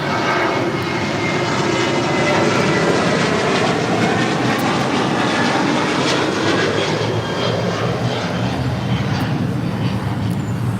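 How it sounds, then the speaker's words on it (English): A Sun Country Airlines Boeing 737-800 takes off at LAX, a loud continuous engine roar that holds steady throughout with a broad rumbling, whooshing texture and a faint airy whine on top. "This is Sun Country Airlines 8501 taking off to Kailua, Kona, 737-800."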